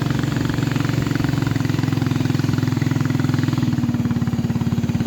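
A small river boat's motor chugs loud and close, a steady pulsing engine drone as the boat nears the riverbank by a field in Kalimantan.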